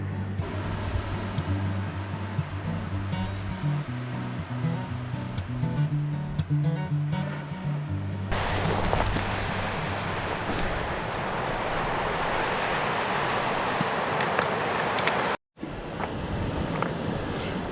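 Surf washing onto One Palm Beach at Crescent Head, first under a low rumbling hum, then a steady broad roar of breaking waves that fills the second half, with a short dropout near the end.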